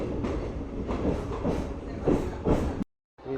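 A MEMU passenger train on the Gudivada to Machilipatnam line runs along with a rhythmic rumble and repeated wheel clatter, heard close, before the sound cuts off abruptly.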